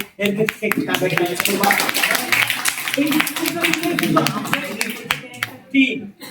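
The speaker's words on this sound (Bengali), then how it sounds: "তোমরা যেন এই কমিটির পদ থেকে উৎসাহ দিতে পারো, হাততালি দিবা তাদের" A Bengali committee gathering's audience breaks into sustained clapping, a dense patter of many hands under someone speaking.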